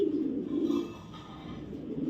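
A male racing pigeon fitted with a BRPL 2023 race chip coos close by, a low throaty roll that is loudest early, fades in the middle and swells again at the end. No talk is heard.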